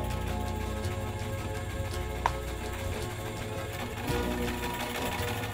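A shared village sewing machine in an Amazon tribal village runs steadily with a fast mechanical stitching rattle. It is moderately close and continuous, with small clicks now and then.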